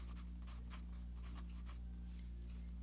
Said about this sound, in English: So you're going to write the word factor.